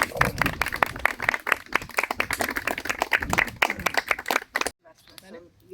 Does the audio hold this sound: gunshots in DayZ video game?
no